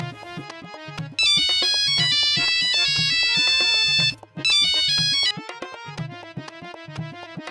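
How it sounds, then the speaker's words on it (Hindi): A mobile phone ringtone plays loud and close as a bright, repeating electronic melody with steady rhythmic beats, cutting in and out twice in a domestic setting. "आ गया होगा उसी मास्टरनी का फोन"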